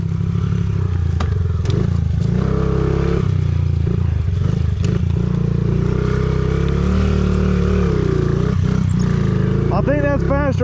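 Small Honda CRF50 and Amazon pit bike engines race together, a loud continuous buzzing drone that rises and falls with throttle and gear changes, close by, with rattles and people talking over it.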